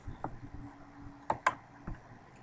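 A few separate, sharp clicks of keys on a computer keyboard, tapped sparsely and quietly at close range with pauses between strokes.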